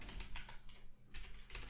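Fingers type quickly on a computer keyboard, a quiet, dense patter of key clicks with brief pauses, heard close and alone with no speech.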